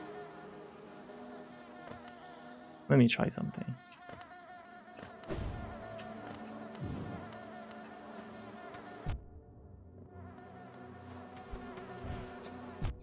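Bees buzz in the Hollow Knight video game, a steady insect drone with a sharp burst of noise early on, while a voice speaks briefly over the game sound.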